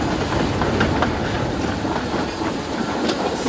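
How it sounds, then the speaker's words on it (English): A goods train rushes past at speed, filling the sound with a dense, steady rumble, rhythmic clickety-clack from the wagons and a hiss of steam throughout. "just as Boko flew by with his goods train."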